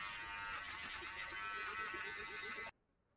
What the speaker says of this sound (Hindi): ये जो है ट्रिमर काफ़ी अच्छा वर्क कर रहा है